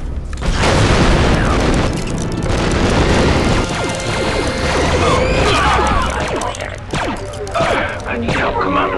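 In the Star Wars Republic Commando video game, an explosive charge detonates with a loud, sustained boom and rumbling blast debris, followed by clattering mechanical noise and faint voices.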